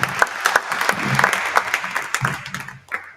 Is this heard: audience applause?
yes